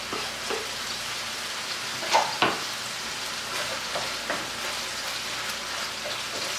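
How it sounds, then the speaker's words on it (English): Ground beef frying in a pan for homemade empanada filling while being stirred and broken up, a steady close crackling sizzle with a few sharper scraping clicks from the utensil. "And I'm breaking up my ground beef as I'm stirring it around."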